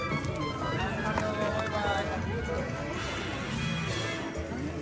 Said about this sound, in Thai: โอ้อันนี้เดินดังแปะแปะแปะเลยอ่ะ